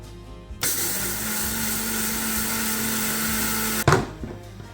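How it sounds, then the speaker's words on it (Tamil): An electric grinder whirs steadily for about three seconds as it grinds roasted mung beans into flour for Jaffna-style payaru paniyaram, then stops with a clunk of the jar. "வறுத்த பயரை கிரைண்டர் கப்புக்குள்ளே போட்டு அரைச்செடுக்கணும்"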